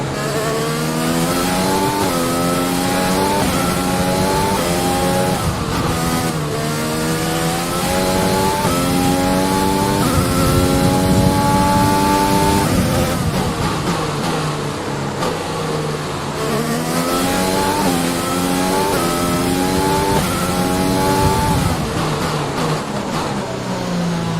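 A Formula 1 car engine in the F1 2020 racing game at the Dutch Grand Prix, a loud continuous high-pitched whine that rises and falls through gear changes and revs on a worn engine.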